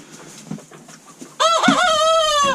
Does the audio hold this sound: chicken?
yes